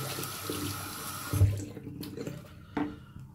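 Tap water runs briefly into a bowl of shaving lather made from a bay rum soap, a soft faucet splash with a couple of small gurgling bursts, fairly quiet and close, no talking.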